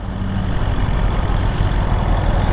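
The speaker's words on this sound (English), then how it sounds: "That exhaust is silky smooth." Exhaust of a 2020 BMW S1000RR motorcycle, a loud, steady, smooth engine drone that holds close and unbroken throughout, with no talking.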